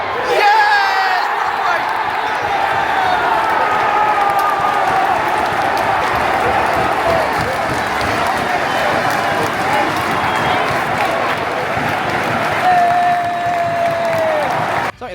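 A football crowd at a Doncaster Rovers match roars after a goal, a loud continuous mass of cheering and shouting that swells and holds for the whole stretch, with voices calling out within it.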